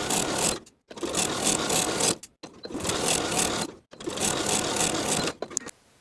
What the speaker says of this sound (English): Sew the cuff to the bottom of the sleeve, slightly stretching the band to fit from point to point,